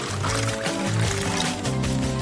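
Water pouring in a continuous gush like a cold shower, a short loud rushing splash with no talking.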